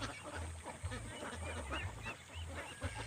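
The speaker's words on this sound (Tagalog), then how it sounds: "So yan na lahat ang mga alagang itik natin mga kadakers." A flock of domestic ducks, more than 700 birds, honks and quacks continuously in the background, many calls overlapping at moderate distance with no pauses.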